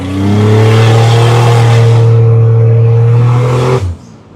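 A 1986 Buick Grand National's turbocharged engine pulls hard at partial throttle, a loud, close, sustained droning roar that holds steady, then drops away abruptly as the throttle closes.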